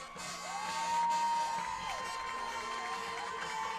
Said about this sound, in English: Crowd's trying to get these Colts fired up. Man, that's good to hear.